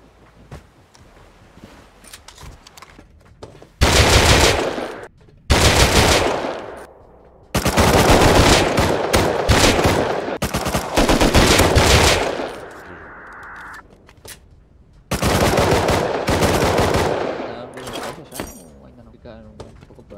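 Loud machine-gun bursts from the survival video game Rust rattle in several sustained volleys separated by quieter stretches, with players chatting in between.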